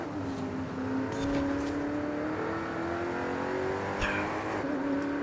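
Maserati race car engine in Forza Horizon 5 holding a loud, steady high-speed drone through desert terrain, pitch climbing slowly with a brief shift and a dip near the end, brief tire scrub mixed in.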